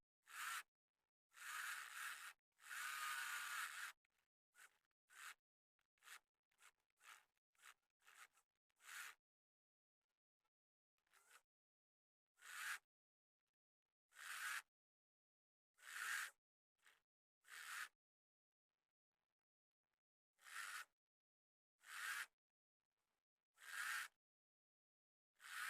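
A sewing machine stitching a child's trousers in repeated short bursts, each a rapid mechanical whir of a few seconds or less, separated by quiet pauses, the runs growing sparser toward the end.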